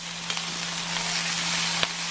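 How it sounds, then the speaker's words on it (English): Yakisoba noodles hit a hot pan and sizzle steadily, a dense even frying hiss with a few faint clicks and taps of utensils, no talking. "And we're going to add our noodles."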